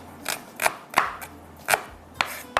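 A knife chopping food finer on a cutting board while cooking daal, sharp irregular taps about every half second, close and clear with no talk.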